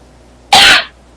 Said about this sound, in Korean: 기침하지 마시고요.